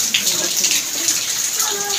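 Heavy rain pours steadily during a storm at a Pakistani family home with damaged walls, a dense, continuous hiss of water with faint voices in the background.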